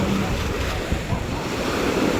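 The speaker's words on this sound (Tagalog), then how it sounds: "Ayan, ganda ng dagat." Sea waves wash in at Bathala Beach in Marinduque, a continuous surf roar blended with wind buffeting the microphone.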